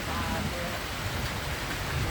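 Heavy rain pours steadily in a dense, continuous hiss with no letup.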